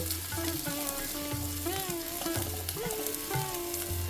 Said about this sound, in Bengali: তেল হালকা গরম হয়ে গেলে তার মধ্যে দিয়ে দেব একটা পেঁয়াজ কুচি